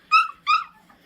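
Puppies kept outdoors give two quick, high yips close by, each short and whiny, then a faint whimper trails off.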